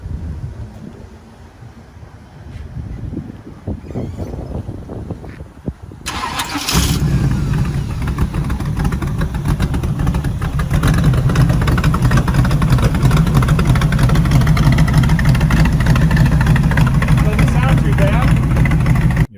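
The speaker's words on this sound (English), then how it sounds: "we're going to go ahead and fire this up for you, and then we'll take you for a ride" A 1956 Chrysler 300B Boano coupe's V8 engine fires up after quiet moments, then settles into a loud, steady low idle rumble that continues to the end, with brief talk early on.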